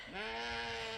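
A single sheep on a farm bleats once, a short, clear, wavering call heard close up against a quiet background.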